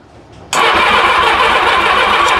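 A vintage Honda Goldwing motorcycle engine from a barn find catches on the starter during a fuel pump test, jumping from quiet to a loud, steady, rough running roar close by.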